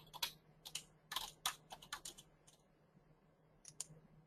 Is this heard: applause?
no